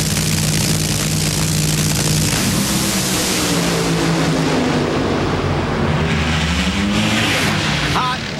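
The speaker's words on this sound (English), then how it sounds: "And his number 15 qualified car, Jeff Arend, trying to put Whit out of this race." Funny car drag racers roar down the strip at the 2004 NHRA Pontiac Excitement Nationals in Columbus, a loud, sustained engine blast rising and shifting in pitch as the cars pass, with an announcer's voice and crowd noise under the din.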